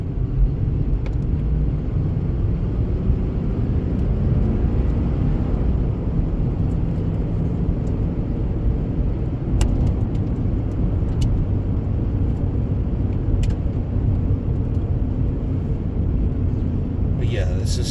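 Panther-bodied car driving along a dead-end farm road, a continuous low engine and road rumble that stays loud and steady with a few faint clicks and rattles over it.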